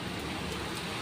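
Steady rain falls in Jeddah during a heavy downpour, a continuous even hiss of drops on wet streets at moderate level, with no voices.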